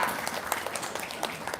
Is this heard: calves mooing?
no